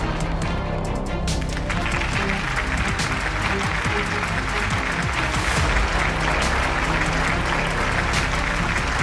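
An audience at a network marketing seminar breaks into loud, sustained applause, a dense wash of many hands clapping evenly throughout, with a bit of cheering from the crowd.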